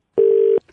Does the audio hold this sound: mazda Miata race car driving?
no